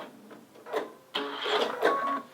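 A sewing machine test-stitches a quilt binding in short bursts of mechanical whirring, the needle running briefly, pausing, then starting again more steadily and close by.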